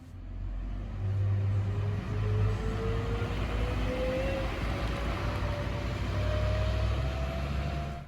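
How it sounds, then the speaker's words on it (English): A bus pulls into the layover area of a temporary bus interchange at St Marys station in Sydney, its engine rumbling low and steady with a slowly rising whine, fairly close and continuous. "This bus has just dropped off passengers and is heading into the bus layover area."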